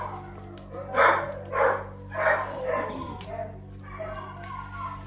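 A dog barks in a handful of separate, fairly close bursts, with people talking around a table during a tongits card game.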